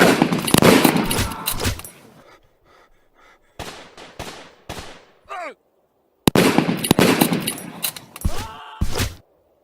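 Gunfire effects in a stop-motion animated battle film, with dense bursts of rapid shots in two loud clusters, a quieter run of sharp cracks and a whistling sweep between them.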